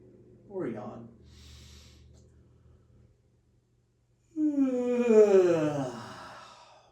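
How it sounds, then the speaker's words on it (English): A person yawning during a relaxation breathing exercise: a short vocal sigh first, then after a pause a long, loud, voiced yawn that slides downward in pitch, close to the listener. "Or yawn."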